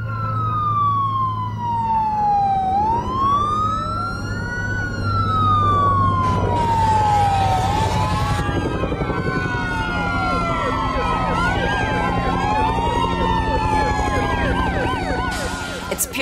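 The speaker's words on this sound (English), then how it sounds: "you just hear sirens and screaming" Several emergency sirens wail and overlap, rising and falling continuously over a low rumble of traffic, with no clear screaming standing out.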